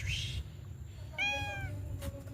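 A black-and-white cat gives two short meows, the first higher and brief, the second a clear tonal mew about a second later, close and fairly quiet over low background hum.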